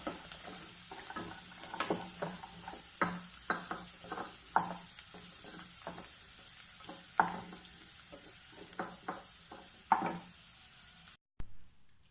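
Cashews and raisins frying in ghee in a pan for payasam, a soft steady sizzle broken by repeated scraping stirs and light clicks of a spoon against the pan, ending abruptly.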